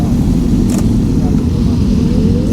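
Harley-Davidson motorcycle riding with a group in Little Rock, Arkansas: a steady, loud, low engine rumble that runs continuously, with a brief higher clatter partway through.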